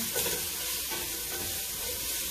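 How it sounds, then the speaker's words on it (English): Vegetables saute slowly in olive oil in a pan over lowered heat, giving a continuous, even, hissing sizzle with no distinct pops. "let them saute and cook slowly"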